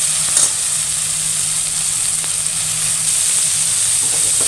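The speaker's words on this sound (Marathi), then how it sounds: "छान मेथी परतलेली आहे।" Fenugreek leaves (methi) sauté in a pan for methi dal, giving a loud, steady sizzle and hiss that runs unbroken from start to finish.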